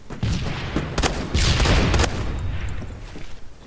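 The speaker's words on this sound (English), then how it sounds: "So he's also using a shotgun." Rapid shotgun blasts from a DBV 12 in the video game Phantom Forces, a dense burst of close, booming shots clustered together with a loud stretch in the middle.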